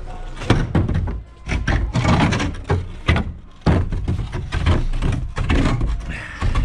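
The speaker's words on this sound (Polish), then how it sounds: "Przewróci, ale ciężkie te drzwi." A heavy wooden garage door being shifted by hand gives a series of loud knocks, thuds and scraping bangs at close range, irregular and clattering across the whole stretch.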